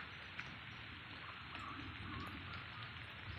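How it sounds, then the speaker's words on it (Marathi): Unseasonal evening rain in the Konkan falls with a steady, soft hiss of drops on wet surfaces, faint and even throughout, with no voices. "हे बघा पाऊस पडतोय"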